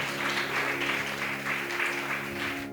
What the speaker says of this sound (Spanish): Dale fuertes palmas de alabanza a Jesús si tú lo crees en esa noche.